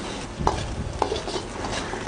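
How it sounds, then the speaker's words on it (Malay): Chinese sausage stir-frying in oil in a wok, a steady soft sizzle with a couple of light scraping clinks from stirring. "Kita tumis-tumis dulu, kasih dia wangi guys."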